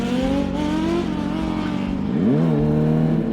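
A motorcycle fitted with a Moriwaki slip-on exhaust revs at night, its engine note rising and bending upward in a loud, close throttle blip over a steady idle drone.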